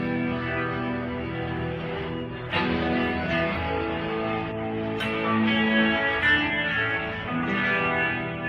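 Electric guitar chords played through a Univibe pedal placed before distortion pedals, a warbling, throbbing modulation, sustained and thick, with a couple of fresh strums mid-way.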